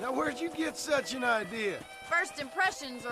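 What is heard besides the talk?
No everyday noise stands out behind the speech.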